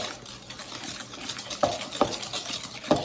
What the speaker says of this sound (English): When it's to this point, this is where I really mix till it's smooth.